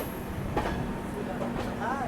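A passenger train runs through a junction station in a steady low rumble heard from inside the car, with faint squeals and clatter. Speech is present but faint.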